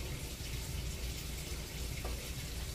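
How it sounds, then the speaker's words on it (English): Water pours steadily into a pot of chicken and rice soup, a continuous close splashing gush that holds at an even level for a few seconds with no voices. "I'm going to add some more water."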